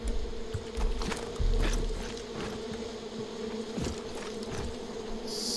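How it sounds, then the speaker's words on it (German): Swarming bees buzz in the video game Far Cry 5, a steady insect drone with low rumbling game ambience underneath, moderately loud and continuous throughout. "Hier sind noch mehr Bienen."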